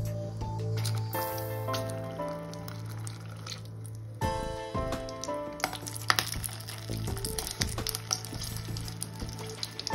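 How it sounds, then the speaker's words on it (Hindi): Capsicum frying in hot oil for stuffed Shimla mirch, a steady low sizzle and crackle with soft squishy stirring and a few sharper pops, close and fairly quiet. "अब हमारा तेल गर्म हो गया है। अब इसमें हम शिमला मिर्च डाल देंगे।"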